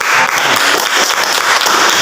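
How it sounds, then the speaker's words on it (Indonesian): Loud, close applause from a school class for a student group, steady continuous clapping from many hands filling the room throughout, with no speech over it. "Tepuk tangan untuk kelompok."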